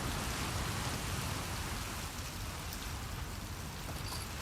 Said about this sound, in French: tu m'étonnes, c'est une tempête